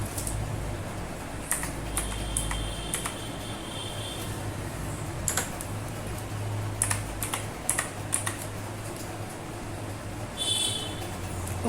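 Keys on a computer keyboard are tapped in short, scattered clusters of quiet clicks, close by over a low steady hum, as a value is entered with brief pauses between bursts; no talking.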